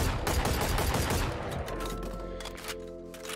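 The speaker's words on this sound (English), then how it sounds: "Next weapon is the Guardian, and this is an interesting one to look at from a hipfire compared to ADS point of view" Rapid Guardian rifle hipfire from Valorant, a tight burst of loud, close semi-automatic shots for about a second and a half, then fading ringing tails and shell-casing clinks.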